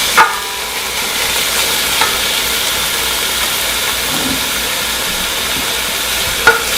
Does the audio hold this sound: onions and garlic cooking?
yes